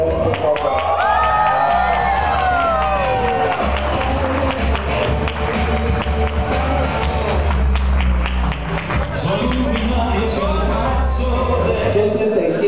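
An audience at an outdoor handprint-unveiling ceremony honoring a voice actor claps and cheers loudly and continuously, with whoops rising over the dense applause.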